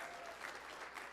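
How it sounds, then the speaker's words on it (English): A short burst of steady clapping from a TEDx talk audience, dense and continuous. "Give yourself a round of applause and have a seat."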